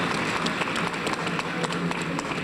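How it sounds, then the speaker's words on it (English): A large audience at a university founders' and honors awards convocation gives a round of applause, a dense, steady wash of clapping from many hands in a big hall. "give yourself a round of applause"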